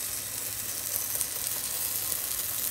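Spoonfuls of matzo meal fritter batter sizzle steadily in a hot frying pan, a dense, even crackle of oil that holds close and continuous throughout.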